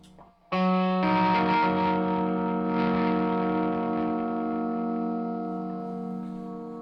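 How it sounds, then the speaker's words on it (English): A sustained, heavily distorted electric guitar chord played through a Caline CP-15 Tantrum boost distortion pedal rings out loud and thick, struck once after a quiet moment and slowly decaying. "Now, if I put that distortion on, it's going to get mighty loud."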